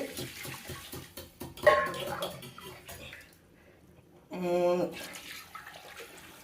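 A second canful of water tipped into a cooking pot for a meat-and-rice lunch: a brief, fairly loud gushing splash near the end, with talking before it and quiet kitchen background around.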